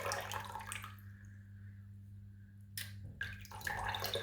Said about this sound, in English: pour out some previously boiled water.